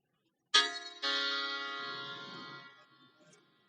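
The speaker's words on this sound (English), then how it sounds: "Sound of piano." Synthesized piano notes generated in Mathematica: two struck tones in quick succession, the second ringing and slowly decaying, clear and alone.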